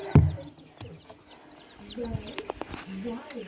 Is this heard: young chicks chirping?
yes